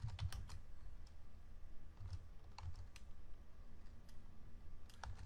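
Computer keyboard keys tapped in short irregular bursts while entering a database command, crisp close clicks over a quiet room hum, no voices.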